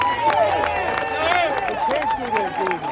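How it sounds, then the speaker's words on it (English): A protest crowd at a rally over a new migrant shelter on Staten Island, New York, applauds the police; loud, dense clapping mixes with cheering, whistles and crowd voices throughout. "let's give a great round of applause to the police who have to do their duty"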